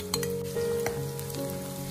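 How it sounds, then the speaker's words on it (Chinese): Star anise dropped into hot rapeseed oil for chili oil sizzles and fries steadily, with a brief clink of a utensil or pan near the start and a continuous close crackle throughout. "再把大料倒下去炸"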